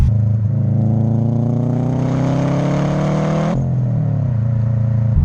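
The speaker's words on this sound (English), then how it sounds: "And the noises, let's be honest, guys. What a fantastic sounding car." Subaru Impreza RB320 engine pulls hard through a gear, its note climbing steadily before dropping sharply at a shift and settling into a lower drone, loud and close with no talk.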